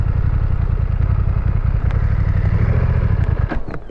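A BMW F900R motorcycle engine lugs at low speed in third gear, a loud, close, throbbing low drone with rough pulsing and a few faint clatters near the end.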